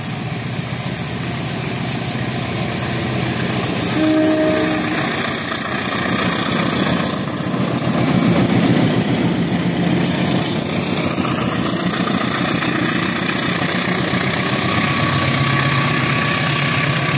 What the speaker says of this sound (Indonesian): ketika CC204 menarik rangkaian KA Barepati Kalok dikarenakan lokomotif CC206-nya sedang gangguan